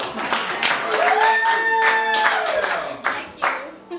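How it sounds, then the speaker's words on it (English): A small group claps and cheers at a songwriting session after a love-song performance, the patter of hands mixing with a sustained vocal whoop and chatter over about four seconds. "give a round of applause, y'all"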